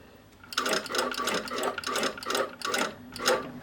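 A sewing machine stitches through a thick coat collar in steady rapid bursts, close and loud, with brief pauses between runs of stitching.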